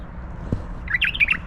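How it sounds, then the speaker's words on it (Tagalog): A short burst of squawky bird calls, three or four quick chirps close by, after a soft thump. "Ayun, may ibon."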